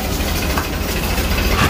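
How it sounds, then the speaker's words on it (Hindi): Big motorbikes idling on a road in Pakistan, a steady loud low engine rumble with no breaks, close by and continuous. "ये उनमें से कुछ बड़ी बाइक।"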